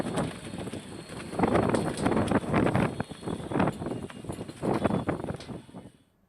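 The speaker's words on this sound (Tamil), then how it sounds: "சிதம்பரத்தில் நேற்றிரவு பலத்த காற்று வீசியதால் வாகன ஓட்டிகள் சிரமத்திற்கு ஆளாகினர்." Strong night wind in Chidambaram gusts and roars against the microphone in uneven bursts, loud and rough, with no voices, before dying away at the end.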